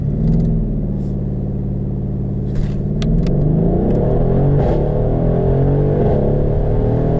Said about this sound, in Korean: 이와 같은 환상적인 엔진이 보여주는 가속 성능에 대해서도 한번 확인해 볼까요?